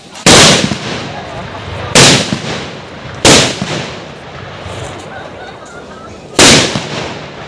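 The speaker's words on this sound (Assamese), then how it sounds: "আৰু এইফালে বোমা মাৰি আছে চাওক" Firecrackers bursting at a nighttime temple festival, four loud sharp blasts spaced a second or more apart, each with a short echoing tail, over faint crowd murmur.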